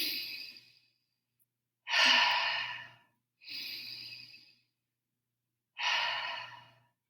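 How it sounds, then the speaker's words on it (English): Four slow, deep breaths, each a long airy exhale lasting about a second, spaced by quiet pauses, close and clear with no talking. "I need you to take some deep breaths."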